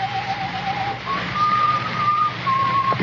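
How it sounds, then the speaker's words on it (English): Someone whistles a slow tune, a few clear sustained notes with short pauses between them, over a low background hum. "The whistling was somewhere in the building."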